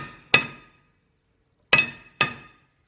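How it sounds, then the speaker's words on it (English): A hammer strikes the rear brake rotor of a Toyota Camry Hybrid three times, giving sharp, ringing metallic taps: one blow, a pause, then two quick hits close together, with no talking. "Now I have to use a hammer here."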